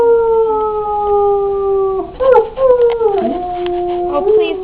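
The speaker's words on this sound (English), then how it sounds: "Oh, please don't get all the dogs howling." Puppies howl close by in long rising and falling wails, one sustained howl first, then several overlapping, wavering howls and yips joining in.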